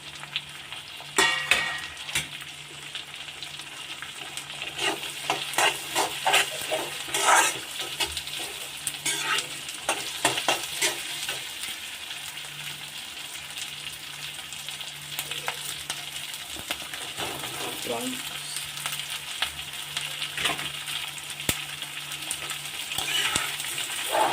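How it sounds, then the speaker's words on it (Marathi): Capsicum and onion added to a pan of frying garlic prawn masala with ginger-garlic paste, a steady close sizzle broken by repeated stirring scrapes and clatters of a spoon against the pan, no voices. "आता आपण शिमला मिरची आणि कांदा यामध्ये टाकणार आहोत"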